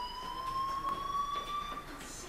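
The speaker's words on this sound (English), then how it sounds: "Hey, do you hear that fire alarm?" A fire alarm rings inside the video game Life Is Strange, a steady high electronic tone that holds unbroken for the whole stretch over faint background noise.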